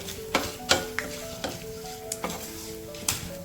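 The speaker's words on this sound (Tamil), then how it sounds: "இது நல்லா கொஞ்சம் அந்த ஃப்ளேவர் வர்ற வரைக்கும் நல்லா ரோஸ்ட் ஆகட்டும்" A tablespoon of black peppercorns dry-roasted in a pan for crab masala, with a light crackle under sharp spatula knocks against the metal every half second or so, close and alone.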